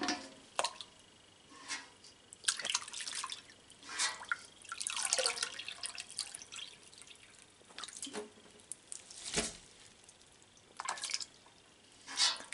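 Whey drips and plops from raw cow's milk cheese curds in a mold during Manchego making. Scattered close drips patter irregularly into liquid, with no talking.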